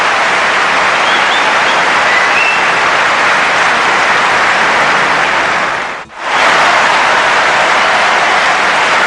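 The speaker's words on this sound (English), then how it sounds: "This crowd around center court applauding both players as they return to the baseline." Centre Court crowd at Wimbledon applauding both players during the 1992 Seles versus Navratilova match, a dense, sustained wash of clapping that stays loud throughout, with one brief dip before it swells again.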